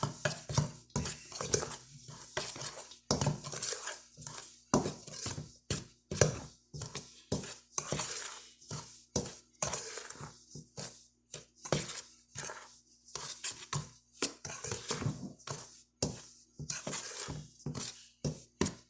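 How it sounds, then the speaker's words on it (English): Flour with baking soda, salt and baking powder stirred together in a bowl, a rapid series of close utensil clinks and scrapes in an uneven rhythm, fairly quiet. "We also got our baking soda, salt, and baking powder in our flour. We're going to mix that together just a little bit."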